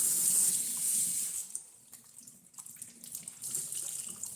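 Hot water runs from a tap into a kitchen sink, a steady hissing stream that fades partway through and then grows stronger again, with no voices.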